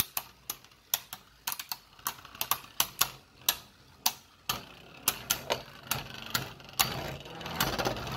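Beyblade tops Orpheus and Unicrest clash in a stadium, giving a rapid series of sharp, close clicking impacts at irregular intervals over a faint whirring spin.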